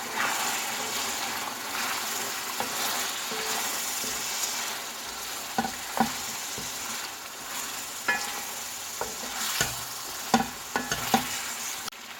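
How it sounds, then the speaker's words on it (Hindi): Salt, chili, turmeric, coriander, cumin and black pepper frying in a pan for chicken stew, a continuous close sizzle with repeated sharp scrapes and taps of a spoon stirring, growing busier toward the end, no voices. "अब इसमें मैंने नमक मिर्च डाल दिया है, हल्दी और धनिया, जीरा और काली मिर्च, ये डाल के इसे थोड़ा सा भून लेंगे हम"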